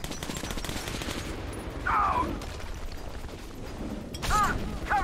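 Gunfire aimed at a monster in Metro Last Light Redux, heard as a dense stream of rapid shots with mechanical rattles and a couple of creaky squeals, steady and loud across the moment.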